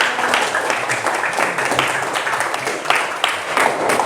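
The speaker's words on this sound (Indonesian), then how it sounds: "beri tepuk tangan dulu tuh kalian ya" Students clapping together in a classroom during an ice-breaking activity, a steady patter of many hands that fills the space throughout, with some voices mixed in.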